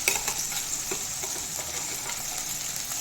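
A ground onion-tomato paste sautés in a hot pan, giving a steady, even sizzle with faint scraping ticks of stirring throughout.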